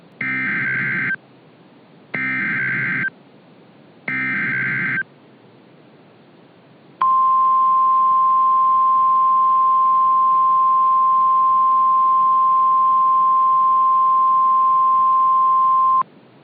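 A mock NOAA weather radio flash flood warning sounds three short electronic alert bursts, then a long steady high tone that holds for about nine seconds before cutting off, loud and clean.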